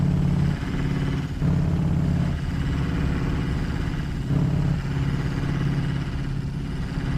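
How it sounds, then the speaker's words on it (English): Truck engine in American Truck Simulator drones loudly and steadily, a low running rumble with slight rises and dips in pitch, continuous without talk. "My engine's so loud I can't hear the lady."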